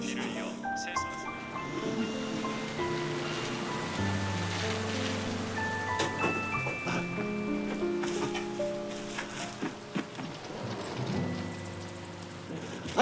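Steady rain falls outside in a broadcast drama scene, a continuous wash of patter running under people talking and background music throughout.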